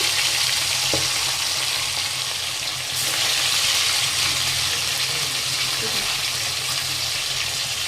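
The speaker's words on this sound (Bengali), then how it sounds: "মাছটা ভাজা হচ্ছে" Steady, loud sizzling of fish frying in hot oil, a continuous crackling hiss throughout with a faint clink near the start.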